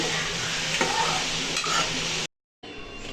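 Cauliflower curry ingredients sizzle and fry steadily in a pan while being stirred, a continuous close hiss with scraping stir sounds, cut off briefly before resuming.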